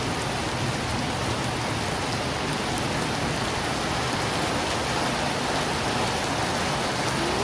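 Rain runs down a window in a steady, even hiss of drops and trickling water, close and constant for the whole stretch with no voices.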